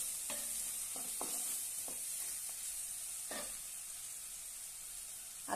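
Spiced farsan dry curry, seasoned with garam masala and salt, is stirred in a pan, giving a few soft scraping strokes over a steady faint sizzle with no talking.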